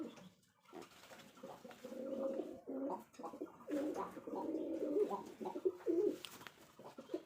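Rajshahi Giribaj pigeons coo close by in soft, repeated throaty bursts, several phrases rising and falling over quiet background.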